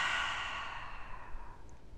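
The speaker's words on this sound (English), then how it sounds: "and then exhale" A single deep breath is let out in one long, soft, airy rush that tapers away over about two seconds, close and quiet, with nothing else heard.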